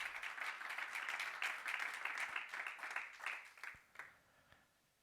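A church congregation claps together during a Spanish-language sermon, dense and lively at first, then thinning into scattered claps before fading out.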